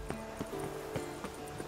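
Faint, steady clip-clop of horse hooves from riding in The Witcher 3, a regular trotting rhythm over a low ambient background without speech.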